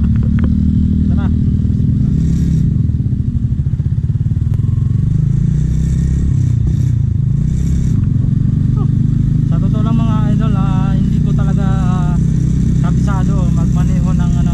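A Yamaha Sniper 150 underbone motorcycle rides on a trip to Lemery, Batangas, its engine a steady loud drone with wind rumble and clattering bumps, while a rider talks throughout.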